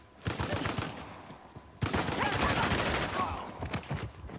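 Heavy gunfire erupts in a firefight in the action game Uncharted: The Lost Legacy. Rapid overlapping shots come in two sustained bursts, loud and close, with voices talking in places.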